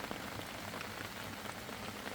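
Steady rain pattering on surfaces during a wet day around a beekeeping yard where black hornets keep arriving at the hives, a dense continuous patter with no voices.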